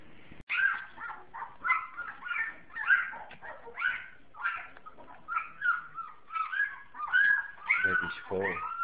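Puppy dog, a Pyredoodle, whining and whimpering in a steady series of high yelps, close and fairly loud throughout.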